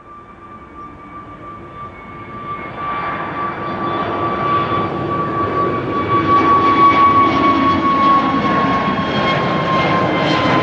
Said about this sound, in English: SAS. Call sign 62 Lima, flight number 552, A320neo to Copenhagen